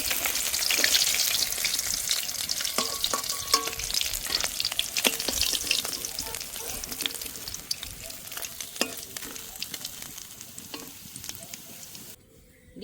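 Katla fish pieces frying in oil in a pan, a dense, continuous sizzle close up, broken by frequent spatula scrapes and taps, running steadily for over ten seconds before cutting off.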